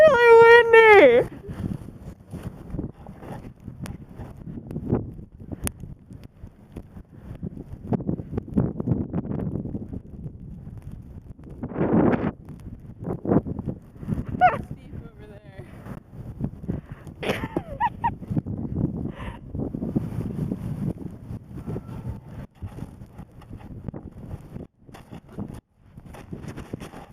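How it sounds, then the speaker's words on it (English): Strong wind from a winter snowstorm buffets the microphone in irregular gusts and rumbles, with people talking and calling out over it. "It's really windy."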